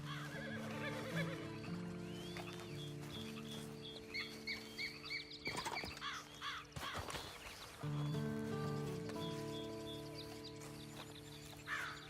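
A horse in the video game Red Dead Online whinnies amid game ambience, with bird chirps and a steady musical drone, the neigh rising over the mix partway through.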